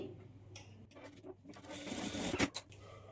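A sewing machine stitches blouse fabric in short bursts, close and fairly quiet, with rapid mechanical ticking that builds into a denser run near the end, with a faint hum beneath.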